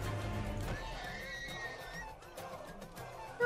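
A horse whinnies in the video game Who's Your Family, a drawn-out neigh rising and falling over game sounds, with a faint clip-clop of hooves and a sharp hit at the end.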